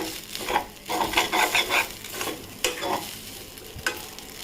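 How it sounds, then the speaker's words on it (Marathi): Sabudana and bhagar roast in ghee in a pan, with close, repeated spoon stirring and scraping over a soft, continuous sizzle. "आता इथे ना एक दोन मिनटं पहिले ना मी असं छान परतून घेते तुपावर"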